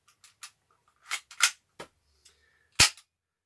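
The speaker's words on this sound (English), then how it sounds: "It's a smooth cocking action on this thing, but the sound of it doesn't sound fantastic in the way the action works. It's got quite a clunk." Cocking action of an HFC M92 heavy weight airsoft pistol: a series of sharp mechanical clicks and clunks, close and dry, with a louder final clunk near the end and no talk.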